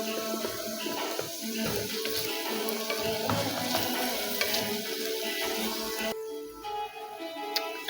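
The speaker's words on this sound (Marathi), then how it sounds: "टोमॅटो टाकून घेऊया." Tomatoes sizzle and fry in a pan with sautéed onion for a Maharashtrian black vatana curry, a steady close crackle with stirring scrapes, no talking.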